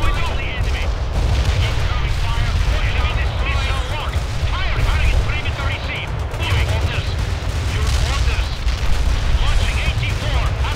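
Continuous battle noise from World in Conflict, with vehicles firing dense bursts of gunfire and booming shots, a loud, unbroken wall of combat sound.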